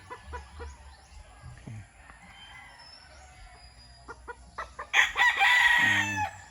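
Roosters crow and chickens cluck in a backyard poultry pen, scattered clucks throughout and then one loud, close crowing call near the end, with light background noise.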